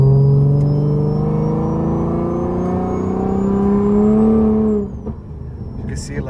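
A Mercedes W204 C300 engine revs hard toward high RPM, its pitch climbing loud and close for about five seconds before it drops off, with a voice talking over it.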